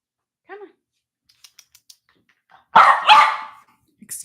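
A pet dog at home gives a short, high bark followed by a louder burst of two or three close, rough barks, with faint tapping and clicks between them.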